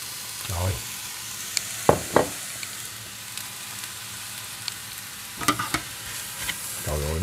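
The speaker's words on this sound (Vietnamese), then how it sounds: "tại sao chúng ta không thử chiên nước mắm?" Rice frying in a pan with fish sauce sizzles steadily, with a few sharper stirring scrapes and clatters cutting through the continuous frying hiss, fairly close.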